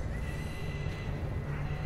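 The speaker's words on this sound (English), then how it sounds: "Pigs are squealing." Squealing pig-like animal cries from the dark fantasy video game Darkest Dungeon, a steady shrill, noisy chorus of calls over a rumbling low backdrop, filling the short moment without any talking.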